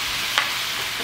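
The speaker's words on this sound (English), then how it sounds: "cast iron skillet, and then I'm gonna place the chicken thighs like top side down" Chicken thighs laid top side down in a hot cast iron skillet give a steady, loud broad sizzle of frying, with a brief brighter pop near the start and no voices.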